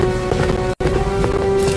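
Horse galloping in the video game Sonic and the Black Knight, a sorceress chased by a rider on horseback; steady, dense hoof clatter under game music with a sustained tone, broken by a brief silent gap midway.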